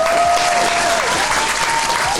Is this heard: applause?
yes